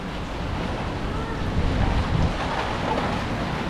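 Strong wind buffets the microphone outdoors on a Bangkok street, a steady, loud broadband rush that swells slightly in the middle and continues without a break.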